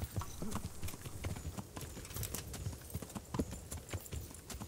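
Horse hooves clip-clop in a quick, uneven rhythm during mounted archery combat in the video game Kingdom Come Deliverance, fairly quiet and mixed with scattered game sounds.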